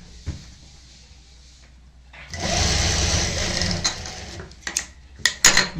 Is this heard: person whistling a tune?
no